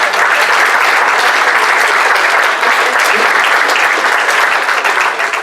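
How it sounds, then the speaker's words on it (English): Loud, close audience applause at a magic show, a thick sustained burst of clapping that stays strong for the whole stretch without any voices on top. "I think you guys ought to give her a round of applause"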